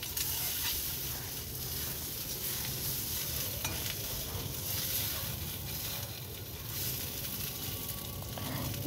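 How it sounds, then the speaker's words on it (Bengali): Eggs frying in oil left in a kadai after frying kakrol (spiny gourd), a steady close crackling sizzle running unbroken throughout, with occasional stirring scrapes. "কাঁকরোল ভাজার পর কড়াইতে তেল ছিল, ওর মধ্যে ডিমটা ভেজে নিচ্ছি।"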